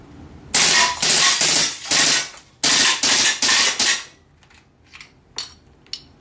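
A GSG 92 rifle emptying a magazine on full auto outdoors, several loud, close bursts of rapid fire broken by short pauses, followed by scattered fainter clatters and knocks.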